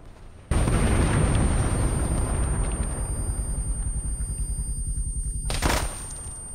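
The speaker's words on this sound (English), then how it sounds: "That's an actual grenade." A grenade detonates in the Arma 3 military shooter, a sudden loud blast that rolls into a long, dense rumble lasting several seconds before tailing off.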